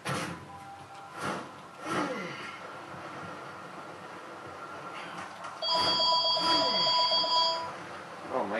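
A phone rings in the video game Prototype 2, a bright electronic trill that starts partway through and repeats over a low game background with soft rumbling bursts.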